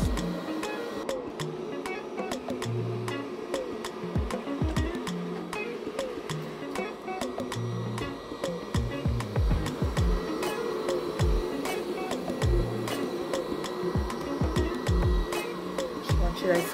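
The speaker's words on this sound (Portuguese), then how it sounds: "É um aspirador de pó." A robot vacuum cleaner runs on a home floor, giving a steady whirring hum with frequent clicks and bumps as it moves around. No one speaks.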